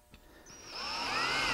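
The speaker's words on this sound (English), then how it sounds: "I'll drill my access hole with a Forstner bit." A power drill with a Forstner bit bores an access hole in wood for a revolving bookcase, the motor whine rising and steadying as the bit bites, close and fairly quiet, with no talking.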